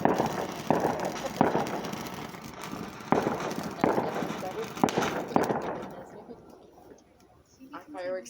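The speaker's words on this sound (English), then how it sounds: "Our fireworks are so cute." Fireworks burst at a distance, seen across Salt Lake, as a series of sharp cracks and booms spaced a second or so apart over a crackling wash, with people talking throughout and the bangs fading near the end.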